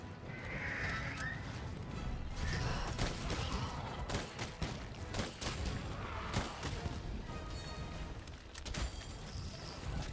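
Gunfire in Monster Hunter World rattles as a string of sharp, repeated shots over a thick, busy bed of game noise that includes horse-like whinnies.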